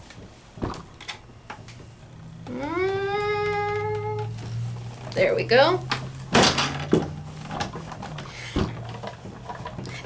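A die cutting machine creaks as paper passes through its rollers, a rising tonal squeal followed by sharp cracks and clicks, with a person speaking briefly.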